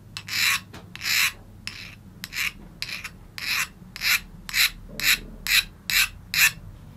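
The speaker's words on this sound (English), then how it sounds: "the way you can tell if it's hardened or not is if the file skates over the metal instead of biting in" A hand file rasps in short repeated strokes over a hardened steel plane iron cut from a saw blade. It skates with a bright, scratchy scrape in a steady back-and-forth rhythm, close up.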